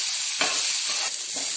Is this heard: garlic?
yes